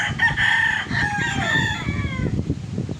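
A Spartan Black gamefowl rooster at a gamefarm calls up close, a loud, drawn-out, wavering cry that trails off into lower, choppy clucks.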